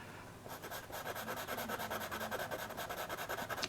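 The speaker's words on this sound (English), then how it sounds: "See, it's picking up on my pencils." A pastel pencil scrubs across Canson pastel paper in quick back-and-forth strokes, a soft, close rhythmic rasping that starts after a brief pause and continues steadily.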